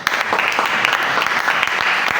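Applause for a group of students in a classroom: a short burst of steady clapping from many hands, fairly close, with no voices.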